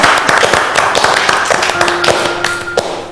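Studio audience on a televised cooking reality show applauds loudly and steadily, a dense burst of close clapping filling the short stretch.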